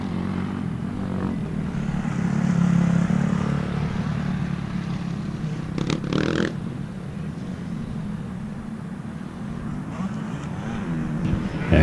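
Motocross motorcycles, a KTM among them, race around a dirt track at Winchester Speedpark, their engines droning and revving steadily at mid distance while a commentator calls the race over the top.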